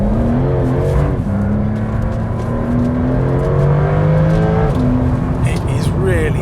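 A Porsche 911 Turbo S engine pulls through its PDK gearbox, its rising tone dropping at quick, seamless shifts, loud and close inside the cabin while someone talks over it.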